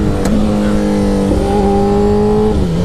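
Motorcycle engine revving loudly during a second-gear wheelie, a sustained close drone holding pitch and rising slightly before dropping off near the end, with wind buffeting.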